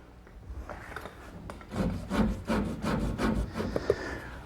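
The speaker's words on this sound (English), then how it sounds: "A lot of sanding and more sanding" Cherry wood on a Nantucket settle reproduction is sanded by hand, a soft rhythmic rasping in repeated back-and-forth strokes, close and fairly quiet, alone without talk.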